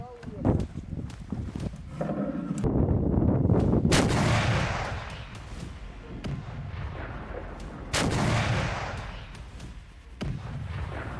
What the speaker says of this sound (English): Russian artillery is firing shells one after another.